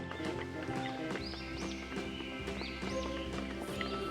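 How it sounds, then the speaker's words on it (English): A horse heard with rhythmic clip-clop hoofbeats and a whinny over steady music, moderately loud and continuous. "H for horse."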